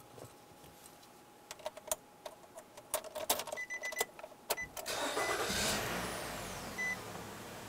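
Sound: car engine starting and idling

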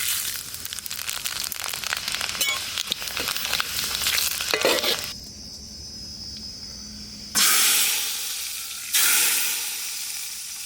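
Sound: dry chillies and panch phoron frying in mustard oil

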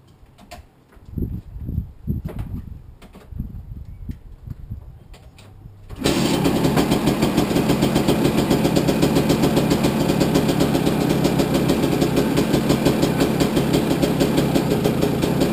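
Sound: KTM 250 EXE 2004 motorcycle engine starting and idling

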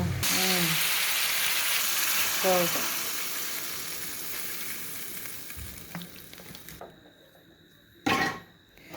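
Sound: sautéing bird meat in a pot

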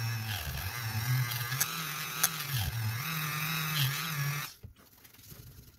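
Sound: buffing wheel polishing a CZ Scorpion Evo 3 bolt part

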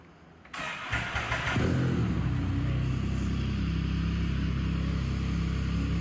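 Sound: Can-Am Spyder F3 Rotax 1330cc engine starting and revving

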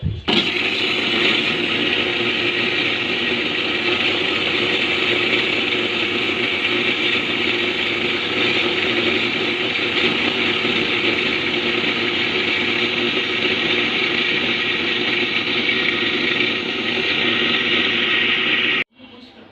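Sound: blender making mango juice

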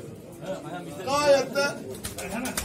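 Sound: pigeons cooing in a box at auction

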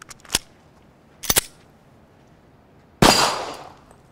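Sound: Smith & Wesson M&P 40 pistol shots

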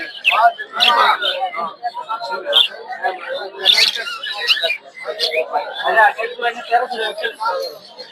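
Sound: budgerigars chirping at a bird market

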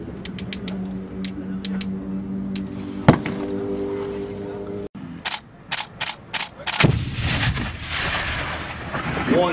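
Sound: hand grenade explosion on a live range

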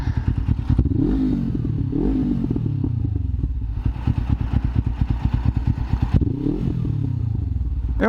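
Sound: motorcycle engine revving

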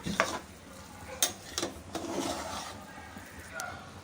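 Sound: mixing and mashing cooked rice and dal with ladle

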